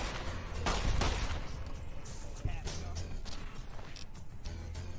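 Gunfire in Fallout: New Vegas: a steady, crowded stream of shots and impact cracks from a fight, with a few sharper bangs standing out and brief voices underneath.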